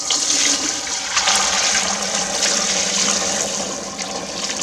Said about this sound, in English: Time to strain the curds off.